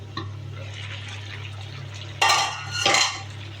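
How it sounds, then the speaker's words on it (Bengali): A lid lifted off a cooking pot of fish curry, two short metallic clatters a little over half a second apart, up close over a steady low hum. "ঢাকনা তুলে নিচ্ছি।"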